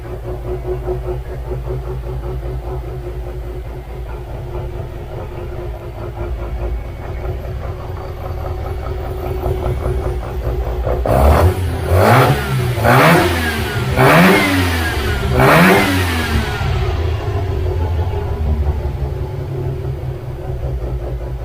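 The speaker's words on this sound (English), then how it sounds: "let's go over the car one last time, have a listen." A Mazda bridgeport rotary engine with a Weber carburettor idles with a lumpy, choppy beat, then revs hard in several rising and falling bursts before settling back to a steady idle.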